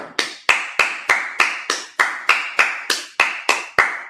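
Steady, evenly spaced hand claps ring out during a Sabbath church service, about a dozen sharp, loud claps in a regular beat with no talking over them.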